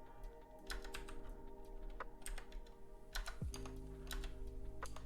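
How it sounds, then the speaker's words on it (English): Computer keyboard typing runs throughout, with dense, irregular key clicks at close range and steady low background hum, no talking. "Where's plus on this keyboard?"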